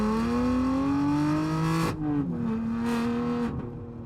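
A BMW F80 M3 running a Bootmod3 GTS exhaust profile gives a steady, close engine drone. The engine then lifts off and the exhaust burbles and pops through the back half, with no one talking.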